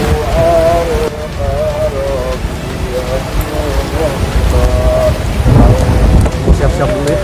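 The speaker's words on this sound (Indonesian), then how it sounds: "Kena hujan heula, kena." Heavy rain beats down on an outdoor hilltop while thunder rumbles through a loud, continuous thunderstorm, with a few faint voices under the downpour.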